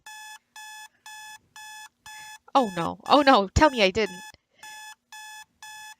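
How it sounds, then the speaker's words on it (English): A video game alarm clock in Animal Lover beeps in a steady repeating pattern of short electronic tones. A person speaks over the middle of it, then the beeping carries on alone. "My alarm clock."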